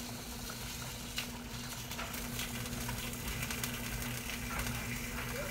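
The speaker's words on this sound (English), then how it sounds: "I'll switch on here. Here's the little sizzle." Steady, quiet sizzling from a frying pan with a constant low hum underneath and a few faint clicks, no voices.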